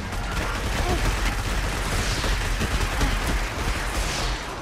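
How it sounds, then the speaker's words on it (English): The Pike vehicle in Destiny fires missiles, a dense, continuous barrage of rumbling blasts and crackling bursts that stays loud and steady throughout. "See, we can get a pike. And it fires missiles too."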